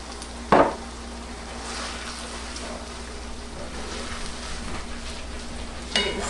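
Homemade chips fry in a pan of oil with a constant close sizzle and hiss, broken by a couple of sharp scrapes and clatters as they are stirred, and no one talks.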